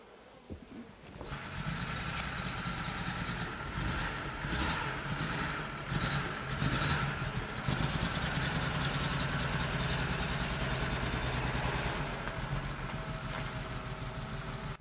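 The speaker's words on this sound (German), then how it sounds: "Das ist die erste schöne Sechszylindermaschine nach dem Krieg, mit der man wirklich toll fahren konnte." Six-cylinder engine of a 1954 Mercedes 220 Cabriolet A running smoothly, a steady mid-low hum that rises slightly after a quiet start and holds evenly, close by with no talking.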